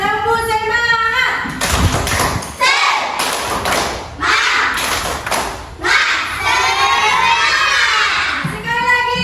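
A class of fourth-grade children in an Indonesian classroom claps in a rhythmic "tepuk semangat" pattern with loud thumps and chanting shouts, energetic and close, with voices calling out between beats.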